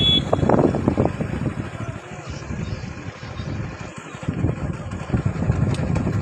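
Motorcycle engine running close by outdoors, a rumbling, uneven drone that rises and dips with wind noise, during a running race.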